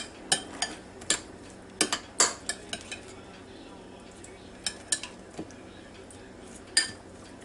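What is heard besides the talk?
stirring potato salad ingredients in a bowl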